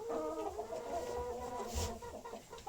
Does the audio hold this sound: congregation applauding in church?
no